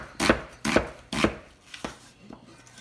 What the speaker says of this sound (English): Rough chop the scallion really quick